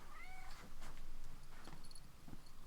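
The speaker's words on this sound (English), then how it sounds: "Come on, fluffy kitty. You just want attention." A house cat meows softly a few times indoors, short plaintive calls close to the microphone over a faint background hum, with no one talking.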